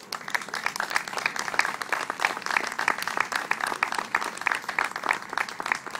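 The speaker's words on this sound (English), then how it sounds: "Let's give them a round of applause." At a Veterans Day celebration in North Palm Beach, a crowd gives a round of applause to standing combat veterans, a sustained, even wash of many hands clapping close by, steady throughout.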